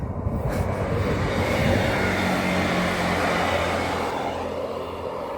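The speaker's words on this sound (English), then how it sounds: "And here comes the train" A passenger train rumbles past close by, a loud, steady roar of engine and wheels that holds for several seconds before easing slightly.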